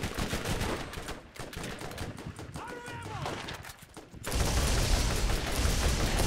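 Rapid gunfire bursts in the online shooter Friday Night Combat, dense broadband crackle with a brief pause then a louder continuous barrage to the end, mixed with other game sounds and occasional voices.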